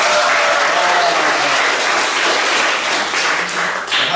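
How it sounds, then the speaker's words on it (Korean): A church congregation at a Sunday service claps loudly and steadily for the media team. The applause is dense and continuous throughout, easing slightly at the very end. "우리 미디어에게 힘내라고 우리 박수 한번 합시다"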